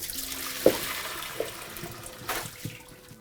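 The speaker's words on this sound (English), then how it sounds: "now you want to rinse this under cold water and stop that cooking process straight away" Cold tap water runs steadily over cooked, wilted spinach being rinsed in a kitchen, a soft continuous splash with a few clanks and bumps near the start.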